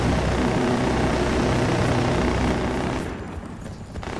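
A steady, loud helicopter rotor drone in the game Battlefield: Bad Company 2 fills the clip, thinning out slightly toward the end before swelling again.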